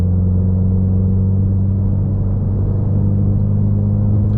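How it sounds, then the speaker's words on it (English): A stock 2019 Ford Mustang EcoBoost engine and exhaust idle or cruise with a loud, steady low droning rumble heard up close from inside, unbroken and without speech. "it's actually pretty loud considering it's just a EcoBoost"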